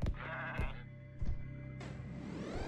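A goat in the Zanki Zero video game bleats in a few quick wavering cries, separated by thumps of combat impacts, with no talking over it.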